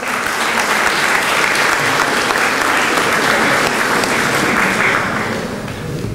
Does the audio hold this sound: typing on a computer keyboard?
no